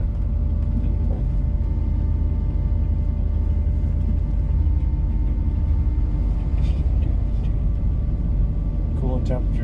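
A 1985 Chevrolet K5 Blazer rolls around the block with a steady low engine and road rumble from inside the cab, while people talk over it.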